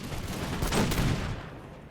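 A musket volley in an American Revolution strategy game: one loud, dense crackling burst of massed gunfire that quickly fades, heard alone.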